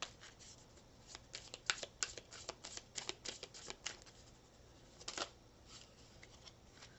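A deck of Love and Magic Oracle cards being shuffled up close, with quick, uneven riffling flutters and soft card slaps, quiet and without talking.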